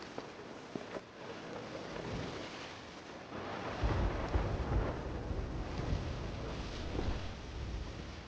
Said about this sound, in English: I just heard thunder and lightning.